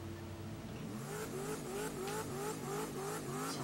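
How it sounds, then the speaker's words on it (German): Car burnout in The Crew 2 racing game, a steady engine drone with rising, repeating revs and tyre squeal pitched above it, loud and continuous with no talking. "der Burnout ist doch schon mal gut"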